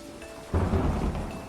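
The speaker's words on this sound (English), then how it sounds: "that's some good thunder" Thunder rumbling through a rainstorm in the video game At the Heart of Blackberry Manor, a deep rolling boom breaking in after a half second of steady rain hiss and sustaining loudly to the end.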